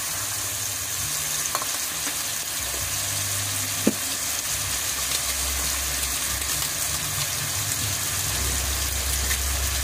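Tomatoes and black pepper hit a frying pan for sarciadong tilapia, giving a steady broadband sizzle throughout with a couple of brief clicks and some low rumble, no talking.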